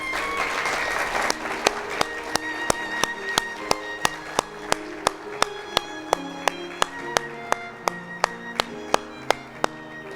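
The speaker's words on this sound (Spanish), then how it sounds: "Le brindamos un aplauso," Steady applause from an audience greets the unveiling of a painting, a dense wash of clapping that carries through the whole stretch under a slow, evenly spaced series of bright ringing chimes.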